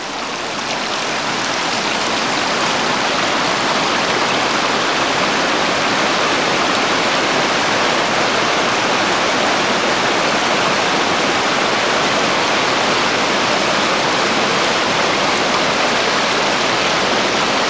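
Loud, continuous rush of the River Leny in Scotland pouring over rocks, a dense steady roar with no pauses and no voices.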